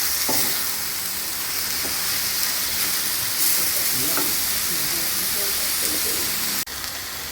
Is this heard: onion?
yes